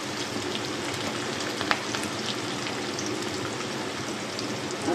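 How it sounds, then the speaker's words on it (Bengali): Crushed garlic cloves frying in a pan with a dense, even sizzle like light rain, steady and close, with one brief clink partway through and no voices. "দিচ্ছি 6 কোয়া রসুন থেতো করে।"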